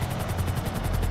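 Helicopter in the video game GTA 5, a steady rotor drone with rhythmic blade chop, continuous and fairly loud throughout, no talking.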